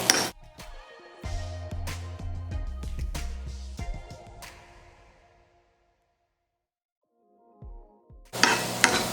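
Cumin seeds and coriander powder sizzle in a pan for potato samosa filling while a utensil stirs and clinks against the metal. Bursts of frying and scraping give way to a near-silent pause, then a loud sizzle returns at the end.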